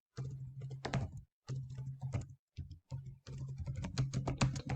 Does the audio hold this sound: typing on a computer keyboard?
yes